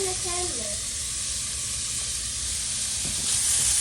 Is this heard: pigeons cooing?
no